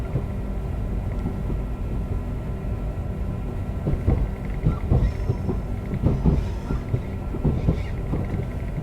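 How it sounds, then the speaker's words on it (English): A ScotRail Class 380 electric train in the Train Sim World game runs over points, giving a cluster of sharp clickety-clack knocks over a steady low rolling rumble, loudest in the middle of the run. "a nice clickety-clack over the points"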